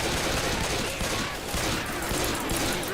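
Continuous gunfire from a co-op session of the zombie shooter Left 4 Dead 2, a dense, loud, unbroken barrage of overlapping shots with no clear gaps.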